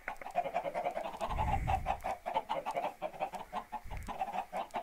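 Minecraft chickens on a farm give steady, rhythmic clucks in quick succession, with a couple of low thumps mixed in.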